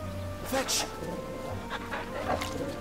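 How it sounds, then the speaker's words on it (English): A dog companion in Final Fantasy XVI gives short barks and whimpers amid game music and ambience, with a person talking over it. "Oh my god, I can pet the dog."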